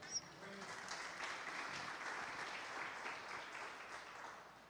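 A church congregation claps steadily for several seconds, a dense, moderately loud applause with a faint voice in the background.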